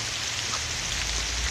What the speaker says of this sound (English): it's still raining out